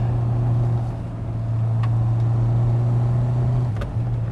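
A Toyota SW20 MR2 Turbo droning steadily at close range from inside the cabin, its engine tone holding level, with a brief dip and a few faint clicks as it shifts into third gear.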